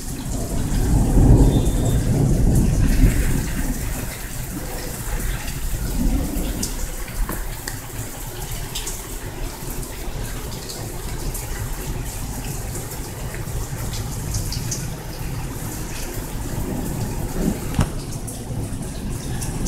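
A rainstorm pours steadily for the whole stretch, with a heavy rolling rumble of thunder near the start and dense rain hiss and patter continuing throughout, no voices heard.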